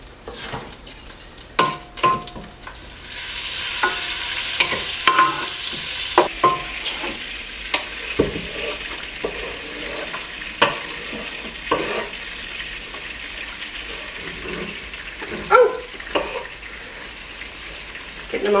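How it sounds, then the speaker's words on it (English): Onions cooking in melted butter for pumpkin pie and holiday prep sizzle steadily, with repeated clinks and scrapes of a utensil stirring the pan, and no one talking. "we're going to add the onion and let that cook for about 5 minutes until the onions are"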